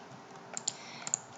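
Several quick keystrokes tap on a computer keyboard as a search term is typed, faint and close, in two short bursts of clicks with quiet room tone between.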